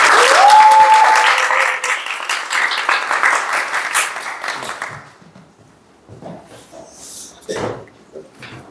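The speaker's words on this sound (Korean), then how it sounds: "박수 부탁드리겠습니다" A church congregation applauds loudly during a Sunday service, steady dense clapping for about five seconds before it thins out and fades into scattered murmurs and movement.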